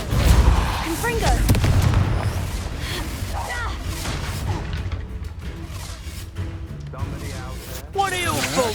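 The Confringo blasting spell in Hogwarts Legacy lets out a heavy boom at the start. Crackling, rumbling game combat effects continue beneath a character's voice.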